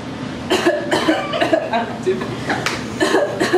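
A voice imitates a loud, harsh cough, repeated in several bursts with short pauses between them, close to the microphone.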